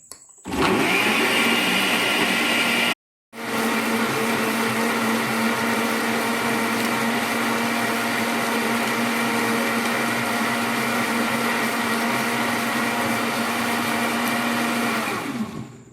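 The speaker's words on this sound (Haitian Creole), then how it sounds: "nou prale blende ananas nou" A kitchen blender whirs loud and steady while blending pineapple for jam, running almost continuously with one brief pause near the start.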